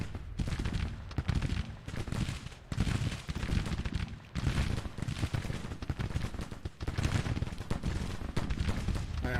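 Artillery bombardment in the Grand Tactician strategy game, a loud, continuous barrage of booming cannon shots and crackling gunfire rolling in dense overlapping bursts, with brief lulls between volleys.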